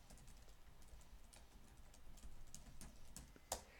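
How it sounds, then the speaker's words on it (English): Typing on a computer keyboard, a quick run of light, irregular key clicks at close range with one sharper tap near the end and no voices. "I'm going to type in my email address"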